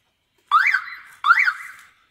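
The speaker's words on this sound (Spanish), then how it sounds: "Dos pulsos que suena así la sirena, desactiva y con uno activa." Electric fence energizer alarm siren sounding two close, loud pulses, each a rising-then-falling electronic chirp that settles into a steady tone before cutting off, with silence before the first.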